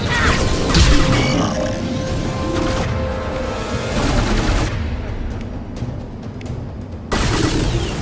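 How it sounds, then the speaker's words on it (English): Sniper rifle fire in the video game Mass Effect 2, several sharp, loud shots and crashing impacts over a dense bed of game noise and music, with abrupt cuts between bursts. "I only have 10 shots with a sniper until I'm out of ammo for it."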